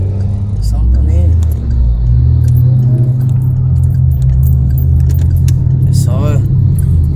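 Inside a 2018 Chevrolet Onix 1.0 climbing a hill in third gear, a steady loud low engine drone hums continuously while someone talks over it and small rattles jingle.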